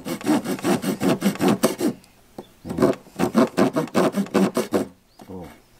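A hand saw cuts through bamboo in a rural village hillside setting, fast rhythmic rasping strokes in two close bursts separated by a short pause, with a voice briefly heard at the end.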